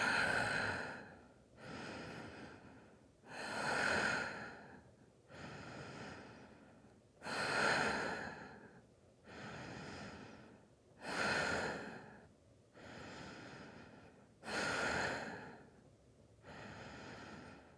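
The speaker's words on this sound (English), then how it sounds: "Just by breathing slow." Slow, deep yoga breathing close to the microphone: long, airy inhales and exhales alternating in a steady rhythm, about ten breaths, each lasting over a second, quiet and unhurried with no talking.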